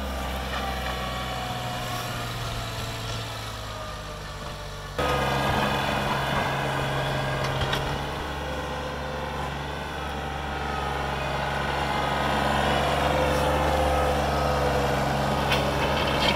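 John Deere tractor fitted with a Western snowplow clearing deep snowfall, its engine running steadily as a continuous low rumble throughout, growing somewhat louder and rougher partway through and staying close and prominent with no talking.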